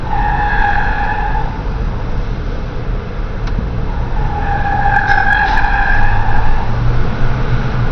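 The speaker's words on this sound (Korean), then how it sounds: "그 주차장이 묘미는 원래 타이어 스키드 소리 아니겠습니까?" Car tires squeal in long drawn-out skids while descending a nine-story spiral public parking garage, two sustained screeches over steady engine and road rumble, close and loud with no talk.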